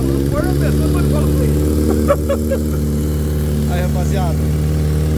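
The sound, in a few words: Honda CG motorcycle with 600cc engine starting, loud exhaust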